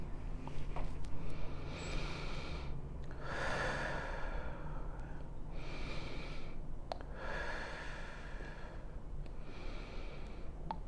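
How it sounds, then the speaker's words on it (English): Slow, deep meditative breathing, close and audible, with several long inhale and exhale cycles each lasting a second or more over a steady low background hum. "feel free to breathe in and out with me"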